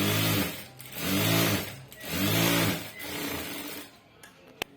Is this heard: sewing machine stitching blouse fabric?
yes